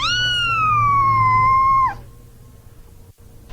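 A cat in a radio drama lets out one long, drawn-out meow for about two seconds, loud and close, gliding slightly downward before cutting off into quiet room tone.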